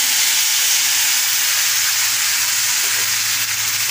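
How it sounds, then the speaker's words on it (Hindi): Milk poured into a hot pan sizzles and hisses steadily for the whole stretch, a loud, dense frying sound with no voices over it. "हमने इसमें मिल्क ऐड कर दिया है"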